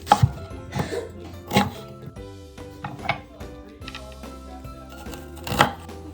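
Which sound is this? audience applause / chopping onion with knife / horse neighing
chopping onion with knife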